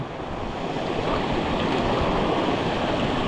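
A river swollen by days of rain roars continuously, a dense, steady flow with no pauses, loud and close, with no voices.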